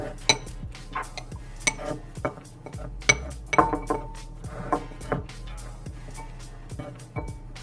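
A whisk clatters rapidly against the sides of a bowl while egg and egg yolk are beaten together, making close, bright, rhythmic clinks and taps that run steadily throughout.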